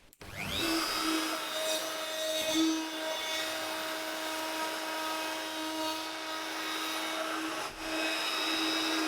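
A wood router runs steadily while cutting a groove along a board, giving a continuous loud high-pitched whine with a brief dip near the end and no talking.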